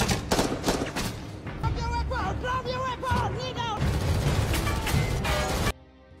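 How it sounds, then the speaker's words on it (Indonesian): Gunfire in a film shootout with Somali pirates at sea, sounding as a dense, continuous barrage mixed under a loud music score and voices before cutting off abruptly near the end. "Baku tembak mulai terjadi setelah para pelaku melepaskan tembakan."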